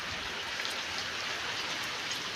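Steady monsoon rain pours down in Lilapur village, Halvad taluka, an even, dense hiss of drops on surfaces with no thunder and no voices.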